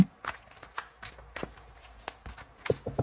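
Tarot cards from a Histoire de sorcière deck being shuffled by hand, a run of quick papery riffles and soft slaps at an irregular rhythm, close and moderately quiet, with no talking.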